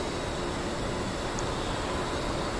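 An SK60 jet taxiing on the ground in the DCS flight simulator game, a steady, dense engine roar and rumble that holds constant throughout without any voices.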